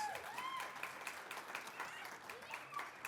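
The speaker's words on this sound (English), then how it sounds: "Give them another round of applause." Guests at a scholarship fund awards ceremony give a round of applause, a quiet, distant patter of clapping with crowd voices and a few whoops over it.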